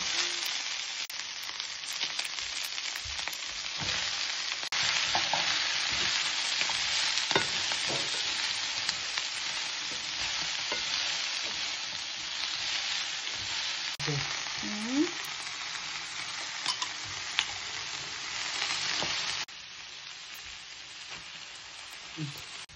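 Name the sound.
sautéing food in a pan (ginisa)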